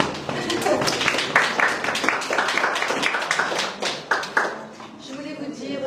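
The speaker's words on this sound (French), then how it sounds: "Donc, on peut l'applaudir également." An audience claps at an art exhibition opening, a dense patter of hands that stays fairly steady throughout, with voices talking over it.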